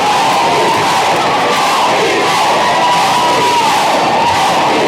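A packed crowd roars and cheers continuously at a high school basketball game between LCA and Ascension. The dense, loud wall of shouting and whooping holds steady throughout.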